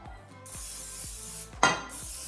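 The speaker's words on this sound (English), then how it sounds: "And we're gonna spray it with some canola oil." Short hissing bursts of canola oil cooking spray coating a loaf pan in a home kitchen, quiet and close, with faint clinks of pans around them.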